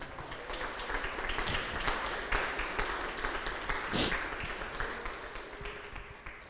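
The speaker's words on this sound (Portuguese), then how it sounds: "Você pode aplaudir o Senhor?" A church congregation claps and applauds together, a dense steady patter of many hands that swells briefly partway through and carries on under a faint voice.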